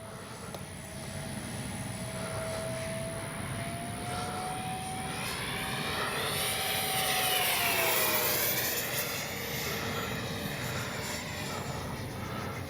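A Freewing Vulcan 70mm RC jet aircraft roars steadily overhead, its whining engine swelling louder as it passes close and then easing slightly, with no talking.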